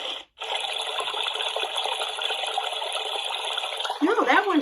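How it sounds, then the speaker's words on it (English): Steady rushing water from a Babelio Mini sound machine on its stream setting, briefly interrupted near the start, then continuing evenly before a person's voice breaks in over it at the end. "No, that one's the stream."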